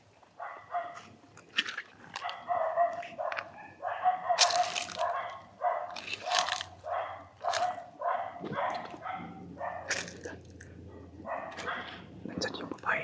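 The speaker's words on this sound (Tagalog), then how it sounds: "Kasi may mga aso na eh." Dogs bark repeatedly somewhere ahead along a path, short yelping bursts mixed under hushed, whispered talk between people walking close to the recorder.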